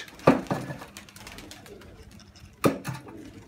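Pigeons coo nearby, with two short bursts of low throaty calls a couple of seconds apart over quiet background noise.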